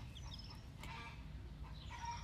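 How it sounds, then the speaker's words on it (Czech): A broody hen clucks on a farm among other chickens, soft intermittent calls over a constant low rumble of background noise. "To je naše kvočna teď."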